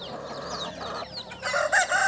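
Desi chickens clucking and chirping on an open free-range farm, with a rooster crowing near the end, close and fairly loud over a busy outdoor background.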